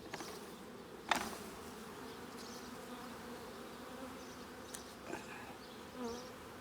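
Honeybees from a package hive at its eight-week inspection hum in a steady close buzz, a few sharp clicks and thumps of handling cutting through.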